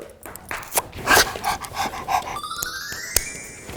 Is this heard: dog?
yes